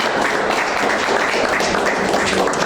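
An audience at a cultural talk in Asturias gives a poet a sustained, dense round of applause that fills the room evenly.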